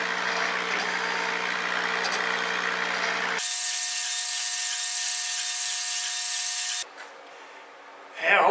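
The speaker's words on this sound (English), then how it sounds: "After I sand all the scorching off the outside, I believe the details will show." Power sander working a red oak bowl: a steady, loud, high whine with a constant motor hum that shifts pitch midway, then cuts off into quieter noise before a brief loud burst at the end.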